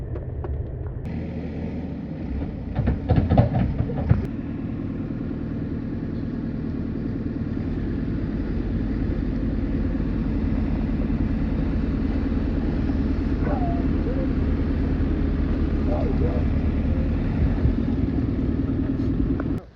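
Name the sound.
a friend's vehicle arriving to plough out the snow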